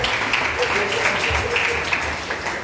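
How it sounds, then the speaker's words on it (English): Church congregation clapping at a Thanksgiving service, a broad, mid-level patter of many hands mixed with murmuring voices and some low musical tones underneath. "Please, let's clap."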